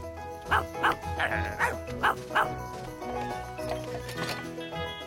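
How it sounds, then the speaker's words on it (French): A cartoon ladybird barks like a sheepdog, a run of short yappy bow-wows in quick bursts over background music, fairly close and clear. "Il joue à Rex, le chien de berger."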